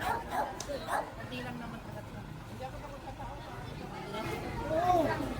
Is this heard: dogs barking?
yes